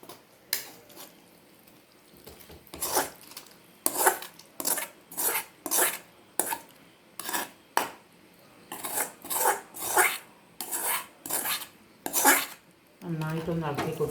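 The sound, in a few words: adding sautéed onion into boiling tamarind water in pot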